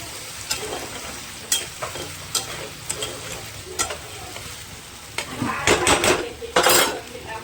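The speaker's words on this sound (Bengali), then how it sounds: "এবার এটা ভালো করে মশলাটা কষাতে থাকবে।" Masala paste is stir-fried in a pan for a Bengali fish and potato curry, a hissing sizzle broken by frequent metal utensil clinks and scrapes against the pan, up close with no talking.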